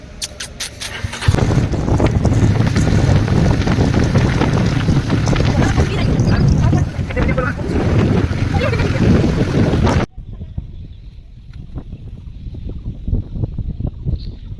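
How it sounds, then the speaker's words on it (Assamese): Strong wind buffeting the microphone in a loud, rumbling roar for most of the stretch, then dropping to a gentler breezy hiss outdoors in a village by a river. "কি ধুনীয়া বতাহ"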